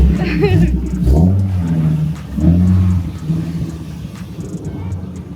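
A Nissan 370Z fitted with a 2023+ Nissan Z exhaust revs loudly up close, with deep rumbling bursts near the start and again midway, settling into a lower idle drone between them, and voices talk over it.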